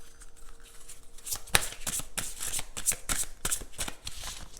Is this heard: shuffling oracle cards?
yes